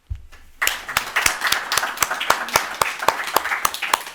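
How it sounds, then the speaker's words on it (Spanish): After a brief pause, a small lecture audience breaks into steady applause welcoming a speaker, a dense stream of claps continuing without letup. "le damos también la bienvenida con un aplauso"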